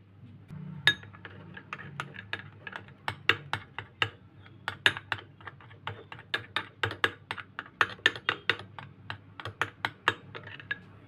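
A utensil mashing banana with honey in a bowl for a face pack makes a quiet, close run of sharp clinks and taps at an irregular but steady pace, with no voices.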